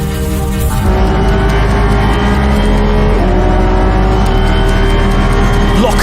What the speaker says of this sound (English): 42 cars will blast their way to the first chicane at Monza